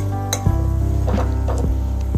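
Prawns are stirred in a curry pan, with close, loud scraping strokes of a spoon against the metal, occasional clinks, and a low steady hum underneath.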